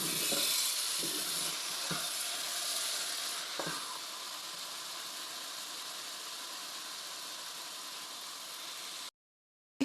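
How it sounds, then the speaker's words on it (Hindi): Potatoes for aloo halwa frying in ghee give a steady, loud broadband sizzle that runs almost unbroken for about nine seconds, with a few soft knocks of a stirring spoon against the pan, before cutting to silence. "साथ साथ ही हमने इसको फ्राई करना है आलूओं को"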